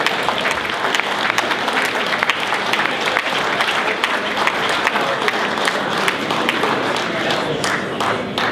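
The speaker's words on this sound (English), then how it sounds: "So help me give her a round of applause for Andrea O'Connell." An audience applauds a speaker at a talk, giving a dense, steady round of clapping from many hands that carries on evenly throughout, loud and close.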